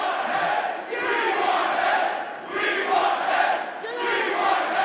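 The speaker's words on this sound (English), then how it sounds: "the crowd is chanting something about wanting head" Wrestling crowd chanting in unison at a tag-team match, the rhythmic chant rising and falling in repeated phrases roughly every second and a half, loud and sustained.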